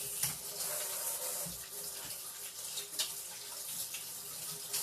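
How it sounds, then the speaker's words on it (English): A kitchen tap runs steadily while hands are washed beneath it, giving a continuous close splashing hiss with small shifts as the hands move through the stream. "let me wash my hands."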